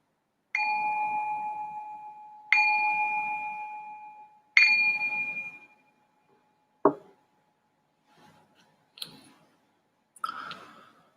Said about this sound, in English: I'm going to ring this bell to signal the start of the meditation.